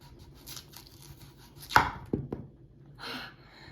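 A few crisp knife cuts through a firm pear, one sharp crunch followed by two quicker slices, with quiet rustling around them and no talking.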